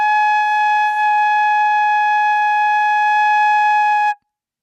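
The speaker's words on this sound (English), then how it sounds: "blow into the flute and get this sound" A single sustained, bright whistling tone from a flute head joint held steadily for about four seconds, loud and clear, then cut off abruptly into silence.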